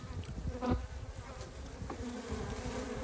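A honeybee buzzes close by near its hive, a fluttering drone that swells and fades as it moves, alone against quiet outdoor background.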